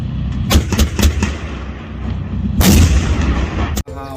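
Loud toy army tank sound effect firing a string of booming gunshots, three quick blasts then a longer burst and a final sharp bang, close and clear with no talk.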